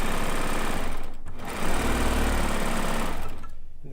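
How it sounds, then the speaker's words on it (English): Sewing machine running steadily while chain piecing fabric with a chain stitch, a loud, fast continuous mechanical whir that briefly dips and surges before easing off near the end. "I'm just chain piecing like I would if I were on my regular sewing machine."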